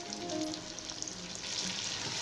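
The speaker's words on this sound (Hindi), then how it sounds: "एक मिनट तक इसे भूनेंगे।" Chicken fries in a pan with tomato, green chili paste and yogurt for a biryani, a soft continuous sizzle with faint stirring scrapes, quiet and close, with no voices.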